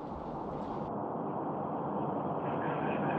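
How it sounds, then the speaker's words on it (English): The Soyuz MS-21 rocket lifts off, a heavy continuous rumbling roar that is loud and sustained, with a slight shift in tone near the start and rising again toward the end. "Liftoff of the Soyuz MS-21."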